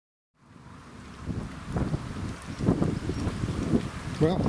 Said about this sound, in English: It's a little bit windy, so I don't know whether that's going to play up with the sound.